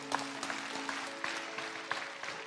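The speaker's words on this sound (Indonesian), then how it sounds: "Kasih tepuk tangan untuk Tuhan." In a church service, a congregation claps faintly in a loose, even rhythm over sustained keyboard or organ tones, the claps soft and somewhat distant.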